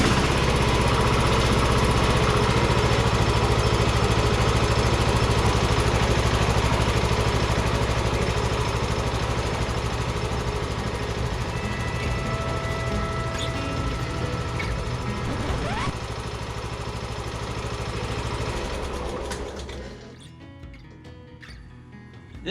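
A Craftsman ZTS7500 zero-turn riding mower engine idles with a steady, rough drone, smoking from the exhaust, then cuts out near the end.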